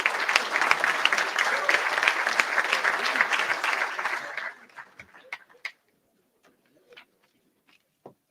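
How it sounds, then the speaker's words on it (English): Audience applause at a Rotary Club weekly hybrid meeting, loud and continuous for about four seconds before it stops abruptly, leaving a few scattered claps and faint noises in near silence. "Ladies and gentlemen, a round of applause for all of our guests today."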